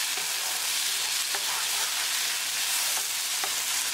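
Tomatoes and onions sizzle in a pan with a steady, fairly loud crackle, while a utensil stirs them with a few soft scrapes.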